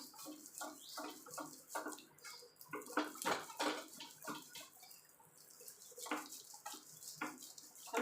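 Palmyra palm fruit pulp rubbed by hand against a strainer or basket, giving repeated wet squelching and slapping strokes in a steady rhythm, close and moderately loud, with no talking.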